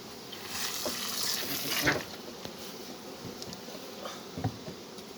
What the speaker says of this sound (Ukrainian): Через то води трохи лину, щоб була краще його могла переробити